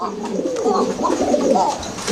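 Koka pigeons cooing close by, a steady overlapping stream of low, throaty coos with no pauses.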